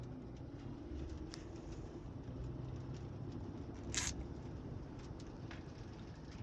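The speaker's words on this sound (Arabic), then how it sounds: "امطار خفيفة كده حلوة" Light rain in Jeddah patters steadily as a soft, even hiss with a few faint ticks and one brief brighter burst midway.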